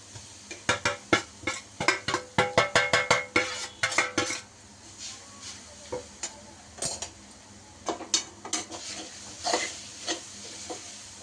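A spoon clatters rapidly against a pan while grated coconut roasts with dry fruits for modak. Irregular runs of sharp metallic scrapes and taps are broken by short pauses, close up and with no talking.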